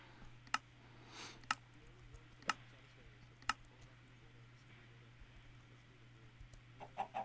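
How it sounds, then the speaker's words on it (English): A few sharp clucks from a Minecraft chicken pop up at intervals over a low steady hum, quiet overall, with a brief bit of faint sound near the end. "Shh, chicken."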